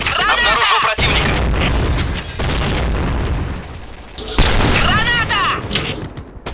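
Grenade blasts and gunfire in the first-person shooter Point Blank, with heavy booms and rapid bursts filling the clip, loud and dense, while a player shouts repeatedly over the action.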